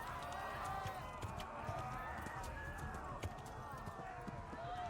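Horse hooves gallop in the medieval game Kingdom Come Deliverance, a steady rhythmic clip-clop of a running horse at moderate distance, with a voice talking over the top.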